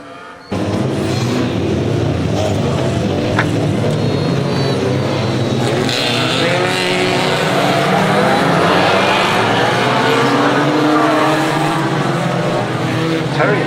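Race cars on a rolling lap at Swaffham Raceway produce a dense, continuous engine roar that holds steady and loud throughout, with faint voices mixed underneath.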